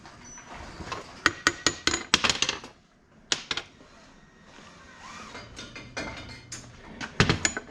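Metal-on-metal hammering as a three-quarter socket drives a suspension bushing into its countersunk seat on a 2021 Polaris RZR Pro XP: bursts of sharp, ringing clinks, a short pause, then a few more taps and a final cluster of blows.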